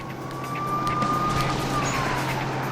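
Police car siren in the LEGO City Undercover video game, a steady wailing tone over continuous engine and road noise from the game, no talking.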